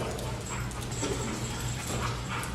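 Dog whimpering with faint yips during a K9 training seminar, a continuous thin whine over low background hum, steady and moderately quiet, with no speech over it.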